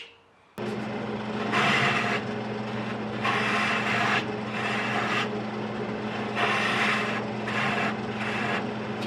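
Lathe turning into glued-on maple wood during eccentric spindle turning, a steady low motor hum with repeated bursts of bright rasping cut noise as the tool bites in, close and loud with no talk.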